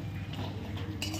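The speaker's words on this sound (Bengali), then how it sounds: "এই যে আমি একটু নাড়া টাড়া দিয়ে নিই" A spoon stirs shankar (stingray) fish curry in a cooking pot. It makes faint, scattered clinks and scrapes of metal against the pot, quiet and close.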